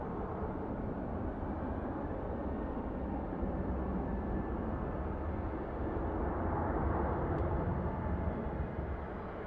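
A Southwest airliner in Canyon Blue livery taxis at Phoenix Sky Harbor International Airport at night, a constant, fairly distant jet rumble that holds steady throughout.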